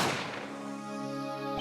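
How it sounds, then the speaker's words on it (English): A single gunshot effect from the courtroom game Apollo Justice: Ace Attorney, a sharp loud crack at the start that rings out into a long tonal decay, heard alone with no talk. "That is when I heard that fatal gunshot."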